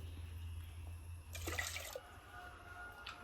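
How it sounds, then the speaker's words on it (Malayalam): A brief splash of water poured into a pressure cooker, about half a second, over a low steady hum in a quiet room. "കുറച്ചും കൂടി വെള്ളം ഒഴിക്കാം."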